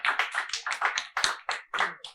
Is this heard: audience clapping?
yes